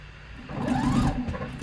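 A home sewing machine stitches a buttonhole on a boxy top while its faulty thread cutter misbehaves, a close whirring run that builds partway through and holds steady.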